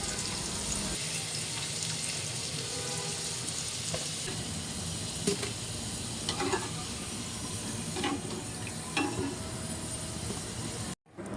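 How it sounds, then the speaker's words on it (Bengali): Potatoes frying in a pan while cooking kacchi with mutton, giving a steady broadband sizzle with occasional clicks and scrapes throughout, fairly close and continuous, with no talk. "আলুগুলো আমার খুব সুন্দর করে ভাজা হয়ে গেছে"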